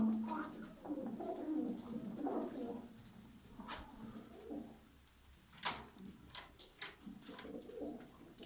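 About 21 pigeons coo softly and repeatedly nearby in a coop, with rustling and occasional sharper bird noises mixed in.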